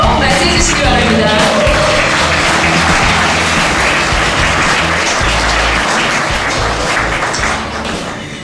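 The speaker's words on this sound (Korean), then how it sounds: "뜨거운 박수로 맞이해 주시기 바랍니다." Loud, sustained audience applause at an indoor business event, dense clapping with a few shouts, holding steady for several seconds before easing slightly at the end.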